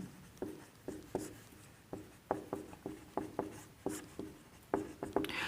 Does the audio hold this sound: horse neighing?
no